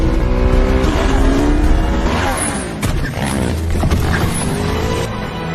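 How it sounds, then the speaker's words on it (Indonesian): Engine roar and tire noise from a film chase, a motorbike racing off at high speed to escape police, loud and continuous with passing vehicle sweeps, skids and impacts mixed in. "Lisbeth langsung memacu motornya dengan kecepatan tinggi dan berhasil lolos dari penangkapan tersebut"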